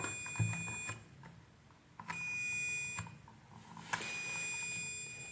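A multimeter emits a steady electronic continuity tone while the leads touch the motor wire of a room heater fan, sounding in three sustained beeps of about a second each, separated by brief gaps and small contact clicks.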